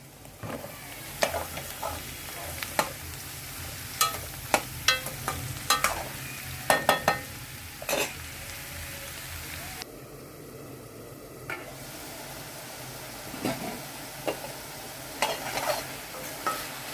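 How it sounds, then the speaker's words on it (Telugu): Pieces of ridge gourd added to a pan of fried onions and green chillies sizzle softly while a spoon scrapes and stirs them with scattered clicks and knocks, fairly quiet and close. "ఇప్పుడు బీరకాయలు వేస్తున్నాను."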